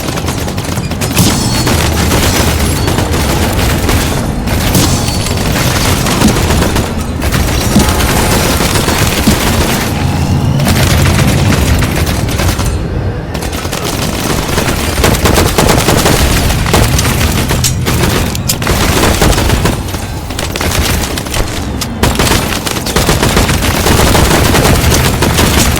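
Video game gunfire crackling in repeated bursts, dense machine-gun rattles and booms that keep going loud and close throughout, with no talk.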